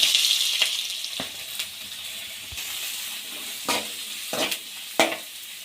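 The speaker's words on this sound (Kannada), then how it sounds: "ಹಸಿಮೆಣಸಿನ್ಕಾಯಿ ಹಾಕಿದ್ಮೇಲೆ ಈರುಳ್ಳಿ ಹಾಕ್ಕೊಳ್ಳಿ." Green chillies and onion fry in hot oil in a pan for a chicken curry, giving a steady close sizzle. A few stirring scrapes and taps sound over it, and no one speaks.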